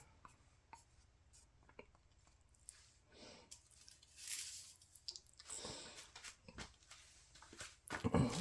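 Dyed epoxy resin being stirred for wood art, soft scraping and squishing strokes close up, quiet at first and growing busier toward the end.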